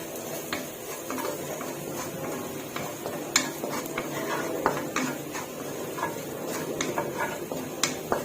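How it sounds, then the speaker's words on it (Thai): Garlic being stir-fried slowly in a pan over low heat for pork with preserved olive, heard as steady scraping and clinking of a utensil against the pan with light sizzle, irregular taps throughout, no talking. "ผัดไปเรื่อยๆนะคะไฟอ่อนๆค่ะ"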